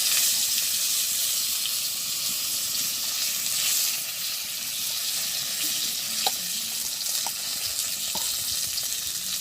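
Whole cumin and bay leaves sizzle steadily in hot oil in a village kitchen pan, a continuous close hiss with a few faint clinks, with no talking.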